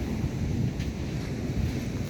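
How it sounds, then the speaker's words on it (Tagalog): Strong surf rolls in at San Juan Beach, a low continuous wash of waves heard under heavy wind buffeting the microphone, with no voices. "Ang lakas nga ng alon."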